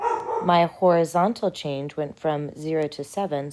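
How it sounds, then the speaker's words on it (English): Dog barking in the background of a math lesson on slope, intermittent and faint under a steady, close voice explaining calculations. "Sorry about my dog in the background."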